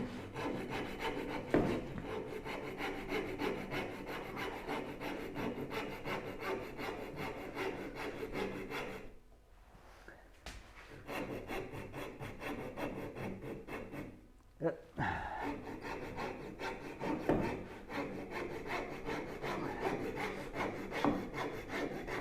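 Steady back-and-forth strokes of a rasp shaping a wooden part for a Moxon vise scrape on continuously up close, pausing briefly twice before resuming.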